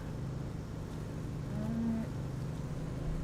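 A cow in the video game Farming Simulator 15 gives one short, low moo midway through, fairly faint over a steady background rumble of engine noise, with no talking.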